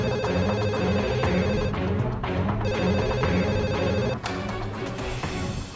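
A telephone rings loudly and steadily in a repeating bell pattern, with a brief gap near the middle, heard indoors alone without talk.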